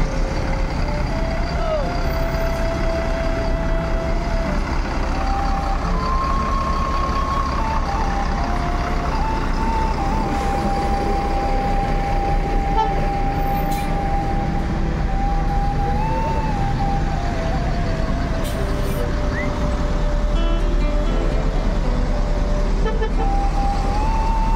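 A new bus, a Sembodo-bodied coach for an intercity route in West Sumatra, reverses with a steady engine rumble, repeated reversing beeps and horn toots over continuous background traffic noise.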